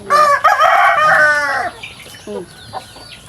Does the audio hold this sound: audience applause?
no